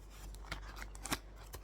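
Blind box packaging being opened for a collectible figure, a few crisp close crinkles and tearing snips in quick irregular succession against quiet background.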